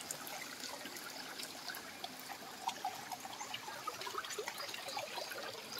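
River water at Punong in Marinduque flows and trickles steadily and close by, a continuous broadband wash with small splashy bubbling accents throughout and no voices.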